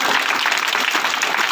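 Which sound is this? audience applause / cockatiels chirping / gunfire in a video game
audience applause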